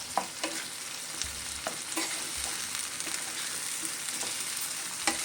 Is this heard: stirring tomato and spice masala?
yes